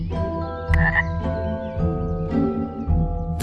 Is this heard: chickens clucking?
no